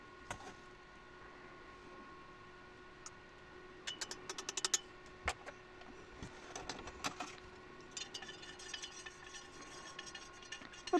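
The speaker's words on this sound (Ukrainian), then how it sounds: "розколочую і додаю в корито" A spoon clinks and scrapes inside a container while fertilizer is stirred into water for petunias, faint at first, then quick irregular taps and knocks grow busier toward the end.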